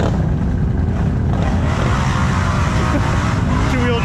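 Powersports off-road machine with stock exhaust, a steady loud engine drone running close throughout, with a brief voice over it on a rough Texas ride.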